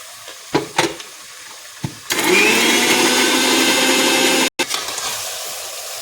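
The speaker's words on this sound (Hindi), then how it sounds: "ये काजू वाले मिर्च भी इसमें डाल के पीस लेंगे।" A few knocks and clatters give way to a loud, steady whirring as a mixer grinder grinds cashews and chillies for chicken korma, stopping abruptly before a quieter hum resumes.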